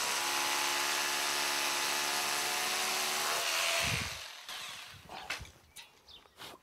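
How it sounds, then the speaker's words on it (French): Power drill boring a hole into a wall for an anchor on an exterior insulation job, a loud steady high-pitched whine for several seconds, then winding down into scattered handling knocks and scrapes. "Donc, je perce"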